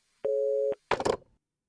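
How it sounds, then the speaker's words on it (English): A telephone in the horror video game Dread Weight gives a single flat electronic ring tone lasting about half a second, followed by a short, harsh burst of noise, then silence. "they said it would continue ringing"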